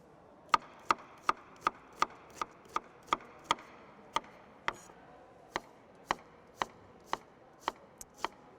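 A knife dices sweet onion on a cutting board for corn fritters, about twenty crisp, evenly spaced chops at a steady rhythm, close and clear with no talking.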